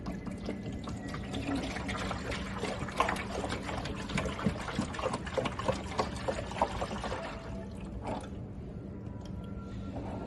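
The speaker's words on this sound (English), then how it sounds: "Slowly pour that into the machine." Flavoured syrup poured slowly into a slushie machine, a steady moderate trickle and splash that runs for several seconds before thinning out near the end, with no talk over it.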